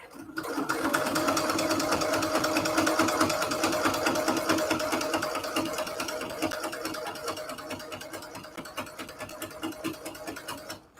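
A sewing machine stitches backward and then forward, a steady close rapid mechanical rattle that stays loud throughout, its rhythm loosening slightly toward the end, with no voices.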